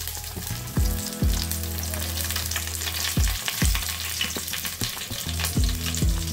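Curry leaves and garlic crackle and sizzle in hot oil in a pan for street-style gobi fried rice, with loud, sharp spattering pops over a steady frying hiss.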